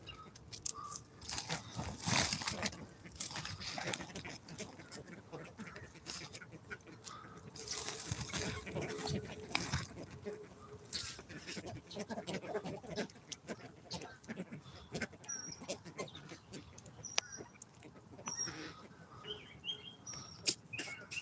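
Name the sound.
chickens making noise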